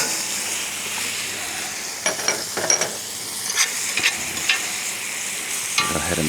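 A steak frying in a pan as it is basted with melted butter, garlic and rosemary: a steady close hiss of sizzling with scattered pops and spoon scrapes, loud and continuous without voices.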